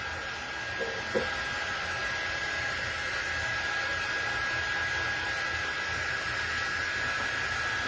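A hair dryer blows a steady, loud whooshing hiss with a constant whine while drying paint on a tin can, running unbroken throughout after a couple of faint knocks near the start.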